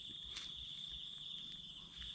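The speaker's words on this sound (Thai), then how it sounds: "ใช่ไหมจิ้งหรีดใช่จิ้งหรีดจิ้งหรีด มีสองตัว" Crickets chirp in a rice field at night, a steady high-pitched trill running continuously at low volume through the whole stretch with no talk over it.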